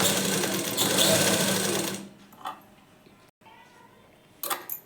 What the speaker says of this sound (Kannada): ಇವಾಗ ಸ್ಟಿಚಿಂಗನ್ನು ತೋರಿಸ್ತೇನೆ